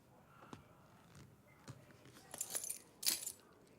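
Keys jangle faintly in a scene from Breaking Bad, a few light metallic clinks building to a brighter jingle near the end, quiet and alone.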